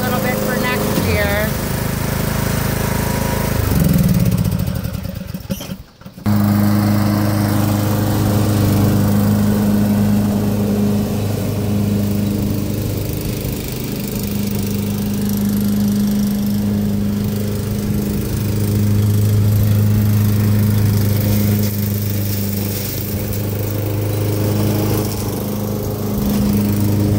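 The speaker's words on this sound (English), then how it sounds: "Just mowing the crap out of this stuff." A lawn mower cuts down overgrown berry bushes, its engine droning loud and close with a steady hum, dipping briefly near the start as the blades bog in the brush before roaring back, while a person talks over it.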